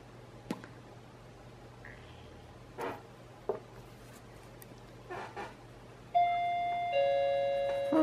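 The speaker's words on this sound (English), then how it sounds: "There's my doorbell." Home doorbell chiming near the end: a bright two-tone ding-dong rings out clearly over a quiet room after a few soft scattered taps and clicks.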